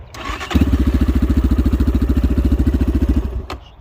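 A Kovi Max 300 motorcycle engine is started up close: a brief crank, then it fires into a rapid, even chugging for about three seconds before it cuts out.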